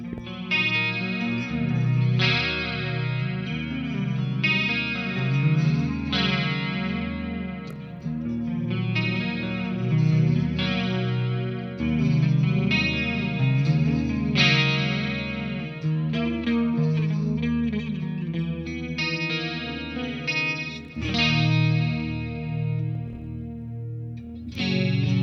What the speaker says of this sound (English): Then I would go ahead and activate the delay, the reverb, and the chorus for some lush 80s tones.